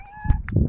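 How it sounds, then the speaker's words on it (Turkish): A cat gives a single short meow, close and fairly clear, with a little rustling and low background noise around it. "kedi geliyor korktum"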